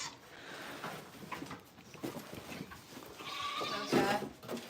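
Goats on a small farm bleating in short, wavering calls, a few overlapping near the listener with a louder cry toward the end, amid light rustling and barn noise.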